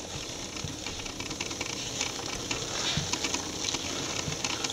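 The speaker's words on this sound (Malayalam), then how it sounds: "ഇനി നല്ലപോലെ അത് കൂട്ടി യോജിപ്പിക്കുക." Lentil curry in a pan with chilli powder just added gets stirred, making a close, busy scraping and bubbling sizzle that builds slightly toward the end, with no voices.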